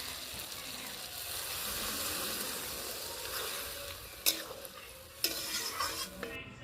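Eggplant and potato masala sizzles and is stirred steadily in a pan, then water hits it with a couple of sharp bursts of loud hissing and spattering, heard close with no talk.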